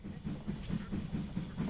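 A train in the VR game Hot Dogs, Horseshoes & Hand Grenades (Meatmas 2022 prelude) rolls past with a faint, steady clickety-clack of rhythmic wheel beats over a low rumble, heard alone without talk.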